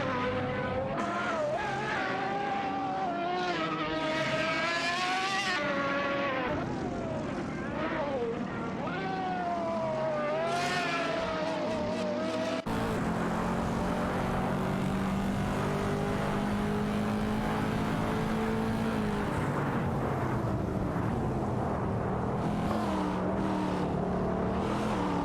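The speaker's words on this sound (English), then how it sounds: "The Mosler MT900 showed impressive acceleration against the Gembala Migwon" Race cars, among them a Mosler MT900, accelerate in a racing video game, a continuous loud engine roar with rising and falling revs and gear shifts, under an ongoing commentary voice.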